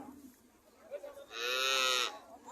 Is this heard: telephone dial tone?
no